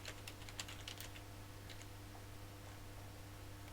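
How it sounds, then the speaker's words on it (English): A short burst of quick keyboard taps while a name is entered on a computer, faint clicks in the first second or two, then fading to low hum. "type a name for it"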